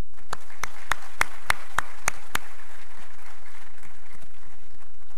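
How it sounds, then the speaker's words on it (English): A short run of about eight sharp, evenly spaced hand claps at a memorial lecture on sustainable education, close and distinct, stopping after a couple of seconds and leaving quiet room noise. "A round of applause, please."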